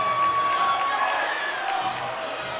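Crowd noise at a high school basketball game between Sulphur Springs and Hallsville, a loud, sustained roar of cheering with whistle-like tones throughout, easing slightly toward the end.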